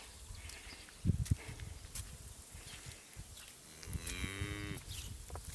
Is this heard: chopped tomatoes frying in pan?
no